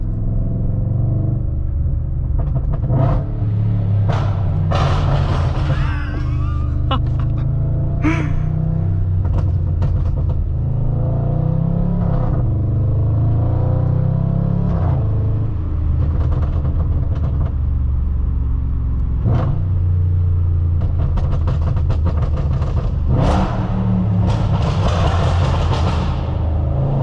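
A straight-piped Audi RS4 B8 pulls hard under acceleration, its loud, raw exhaust roaring up and down through the gears while sharp pops and bangs crackle out repeatedly on the overrun. The sound is close and constant with no talk.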